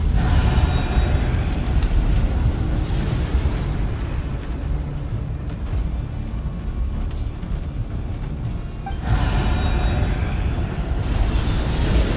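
In Genshin Impact, a fire burns as a loud, roaring crackle. The rushing noise dips briefly in the middle before surging back to full strength.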